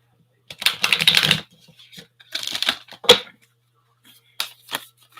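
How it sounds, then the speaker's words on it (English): Tarot card decks being shuffled in bursts of riffling and rustling, close and fairly loud, with short pauses between each round. "I'm going to get some decks shuffled real quick."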